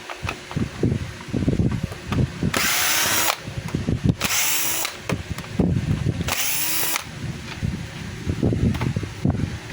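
A power screwdriver whirs in three short bursts while backing screws out of a Stanley STHM10 10 kg jackhammer, with clicks and clatter of handling between bursts, close up and with no one talking.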